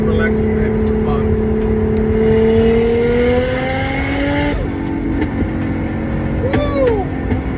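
JZX drift car engine revving hard on track, a loud sustained engine whine climbing in pitch, then dropping and rising again as the car passes nearby.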